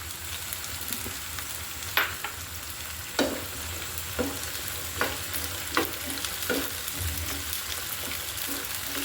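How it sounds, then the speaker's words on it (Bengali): Garlic dropped into oil that was heated and cooled, sizzling softly for a Bengali tomato tok dish, with a steady low fry broken by several sharp stirring scrapes at intervals. "এর পর্যায়ে আমি রসুন দিয়ে দিচ্ছি।"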